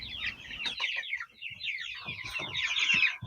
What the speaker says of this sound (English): we're going to start with the chicks, or meat birds